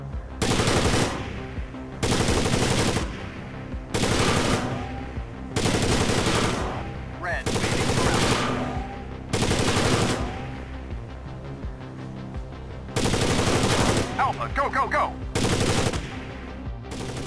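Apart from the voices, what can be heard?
gunfire in video game Rainbow Six 3: Raven Shield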